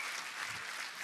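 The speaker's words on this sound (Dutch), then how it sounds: "Geef ze even nog een keer een heel groot applaus" A big round of applause from the audience at an evening youth church service on an island, a dense, steady clatter of clapping filling the whole moment with no voices over it.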